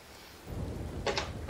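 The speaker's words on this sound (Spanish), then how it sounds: "Sí, no, han mejorado las tormentas también" Thunderstorm in Red Dead Online: after a near-silent moment, a deep rolling rumble of thunder swells up, joined by crackling bursts over a hiss of rain, with no voices.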